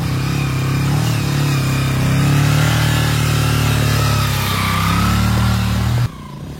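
A motorcycle engine revs loudly and close, its rough, throaty roar rising and falling and then cutting off sharply near the end.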